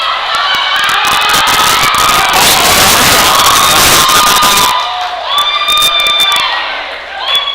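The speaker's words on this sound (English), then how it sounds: "As you can hear by the cheer, that was a good lift." Crowd at a powerlifting regional championship erupting in loud cheers, whoops and shouts after a successful 175-kilo lift, the roar fading after about five seconds into scattered yells and talk.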